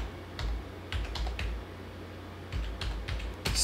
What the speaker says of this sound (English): type in ipconfig